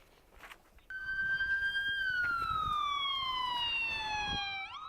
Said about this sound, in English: Sirens blaring in broad daylight for the second afternoon in a row